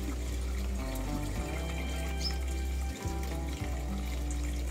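Water mixed with air gushes steadily down a T-pipe in a tilapia aquaponic system, a continuous close splashing flow with a low rumbling hum underneath.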